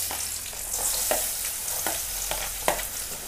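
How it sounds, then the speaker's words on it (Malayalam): Chopped onion and mustard seeds fry in hot coconut oil for upma, giving a steady close sizzle broken by regular spoon-stirring scrapes about every half second, with no voices. "ഇനി ചെറിയൊരു സവാള കട്ട് ചെയ്തിട്ട് കൊടുക്കാം."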